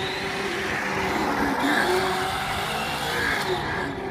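A Traxxas Slash 4x4 RC car with stability management switched off whines at a steady high pitch as it runs fast circles on a parking lot, its motor pitch rising and falling slightly with each turn.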